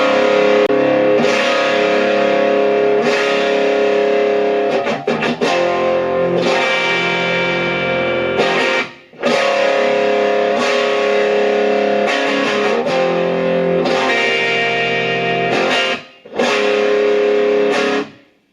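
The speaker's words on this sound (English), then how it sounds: "Single coil distortion." Distorted electric guitar played through an active single-coil pickup on an Ovation Breadwinner prototype, loud sustained chords and riffs with brief pauses and sharp restarts, with no talking.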